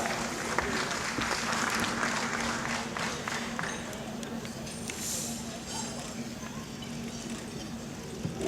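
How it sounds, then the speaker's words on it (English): At a Rotary awards gathering, guests applaud Stanbic Bank with continuous, fairly quiet clapping mixed with room murmur and a hum in the background. "A big round of applause to Stanbic Bank"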